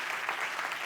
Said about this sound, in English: Round of applause here for Moita.